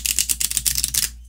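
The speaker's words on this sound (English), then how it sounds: "if you're doing a riffle shuffle, you can riffle it, and I'm gonna do it again" A deck of playing cards riffle shuffled close up, a fast burst of crisp flutter and rapid clicking that runs for about a second and then stops.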